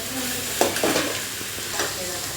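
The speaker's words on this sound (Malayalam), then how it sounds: "നമ്മൾ നന്നായിട്ട് നമ്മുടെ ചെറിയ ഉള്ളിയൊക്കെ നന്നായിട്ട് വഴറ്റിയെടുക്കുക കേട്ടോ" Small onions sauté in a pan for chicken curry, a close, continuous sizzle with a few scraping stirs of a spoon.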